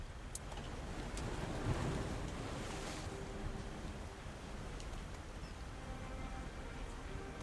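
Ocean surf washing steadily against the shore beside a village in the video game Tainted Grail: Fall of Avalon, a continuous soft roar with gentle swells and no voices.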